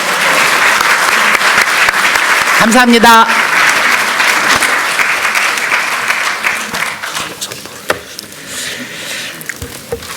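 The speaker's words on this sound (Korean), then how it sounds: "박병석 의원님과 김상희 의원님께 격려의 박수를 부탁드립니다" An audience of party lawmakers at a National Assembly gathering gives sustained, loud applause for the elected speakers. A voice briefly speaks through it before the clapping fades into scattered claps and room noise.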